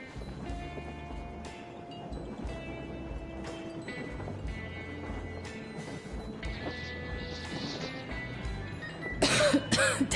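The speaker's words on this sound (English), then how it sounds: "Damn coughing." A character in the video game Metro Exodus coughing and clearing his throat, faint and intermittent over a low ambient game soundscape, with a sharper harsher burst near the end.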